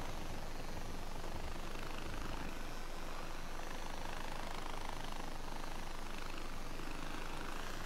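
A plane engine in the Far Cry 4 video game gives a steady, unbroken droning roar, like a propeller aircraft, held at constant loudness throughout.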